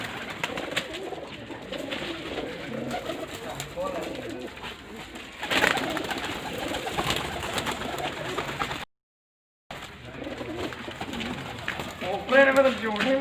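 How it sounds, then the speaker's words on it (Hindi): Pigeons coo softly and repeatedly in a busy, close setting, with a person talking over them and a brief dropout partway through. "कैसे कैसे कबूतर।"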